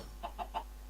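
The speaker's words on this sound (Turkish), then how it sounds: "Gel bakalım tavuk." A chicken in a modded Minecraft survival game gives three quick, soft clucks in an even rhythm over a low steady hum, with no other sound around them.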